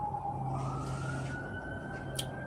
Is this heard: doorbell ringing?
no